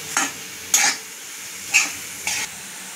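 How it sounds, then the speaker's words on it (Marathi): Grated fresh coconut with milk being stirred in a pan, heard as four short scraping bursts of a spoon against the pan over a faint low sizzle, close and fairly loud. "दूध घालून परत आपण चांगलं परतून घ्यायचं"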